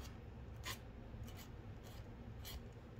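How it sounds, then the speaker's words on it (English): A hand file rasps across silver jewellery metal in a few short, separate strokes, faint and close against a quiet background. "So I'm just filing down."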